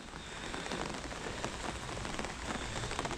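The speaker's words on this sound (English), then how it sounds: "As you can see, it's raining." Rain pattering steadily on an allotment, a dense close hiss of drops with small irregular taps throughout and no voices over it.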